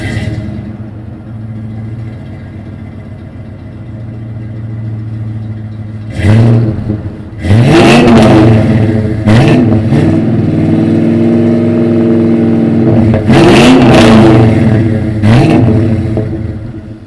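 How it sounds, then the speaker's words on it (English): A vehicle engine with a free-flowing exhaust idles with a low rumble, then fires into loud throttle blips. Several sharp revs rise and fall over a deep, throaty idle, close to the microphone. "you could hear the exhaust sounds a lot better"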